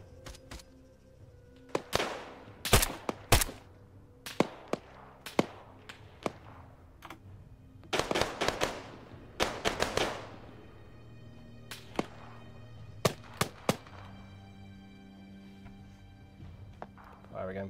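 Scattered gunfire in the military game Arma 3, with sharp single shots and short clustered volleys at irregular intervals, some near and loud, others fainter, over a low steady background rumble.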